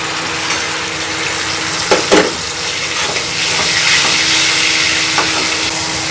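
Crushed tomatoes tipped into hot oil with crackled cumin seeds in a pan, giving a steady, close hiss of frying that swells as they land, with a brief clatter of utensil and stirring partway through; no talking.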